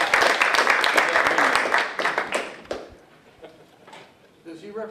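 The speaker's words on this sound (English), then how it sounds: "give a round of applause to Bo Monahan" An audience at an evening meeting gives a round of applause, dense clapping for about two seconds that thins into a few scattered claps, with voices murmuring as it fades.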